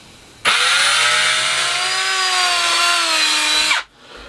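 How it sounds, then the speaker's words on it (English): Long power drill boring a pilot hole upright through bench timber, a loud continuous whine starting abruptly, holding steady for about three seconds with pitch sagging slightly under load, then cutting off. "I just find it's easier to keep this upright with a long drill, and that'll just put a pilot hole through"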